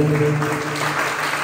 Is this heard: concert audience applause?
yes